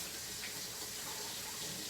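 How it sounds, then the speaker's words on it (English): Tap water runs steadily into a sink, rinsing cookie dough off a baking pan, a close, continuous hiss with no pause throughout. "Just gotta rinse the dough off"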